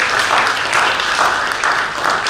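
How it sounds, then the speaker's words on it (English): Audience applause at a yoga award ceremony, steady dense clapping from a crowd filling the whole stretch, loud and close with a slightly pulsing rhythm and no speech over it. "Please give him a big, big round of applause."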